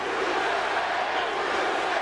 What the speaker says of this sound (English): Crowd firmly behind Spike Dudley